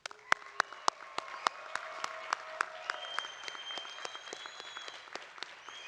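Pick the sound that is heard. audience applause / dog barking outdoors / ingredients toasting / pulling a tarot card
audience applause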